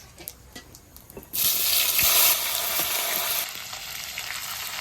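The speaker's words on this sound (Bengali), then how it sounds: "ফোড়নে দেব গোটা শুকনো লঙ্কা, তেজপাতা আর জিরে, কেটে রাখা পেঁয়াজ।" Whole dried chilli, bay leaf, cumin and chopped onion hit hot oil with a sudden loud sizzle that swells and then settles into a steady, close frying hiss.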